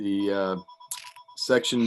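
A phone rings during a municipal wetlands agency meeting, a steady electronic tone running under a man's speech at a moderate level.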